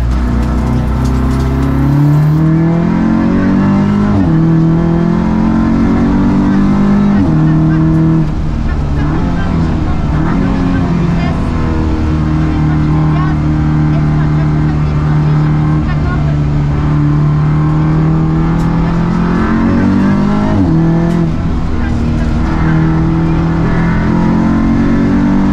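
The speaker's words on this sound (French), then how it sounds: "Cette voiture elle tombe le 0 à 100 en 4 secondes 5 et sa Vmax est de 240 km/h." Lightweight race car with a sequential gearbox, 0-100 km/h in 4.5 seconds and 240 km/h top speed, driving the Pau street circuit: a loud, sustained engine drone rising and falling through gear changes, with a voice talking over it throughout.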